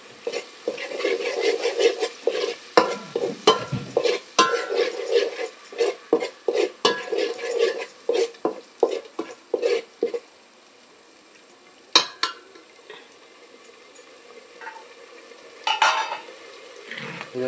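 A green paste of ginger, coriander, chilli and garlic sizzles steadily in a pan for a home-style Kokan chicken masala, with repeated scraping stirs and utensil clinks before the frying settles to a quieter hiss.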